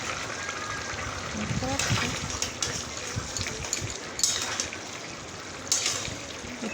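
A spiced curry of pointed gourd and prawns boils in a pot after water is added, with a steady bubbling and gurgling under a voice speaking throughout.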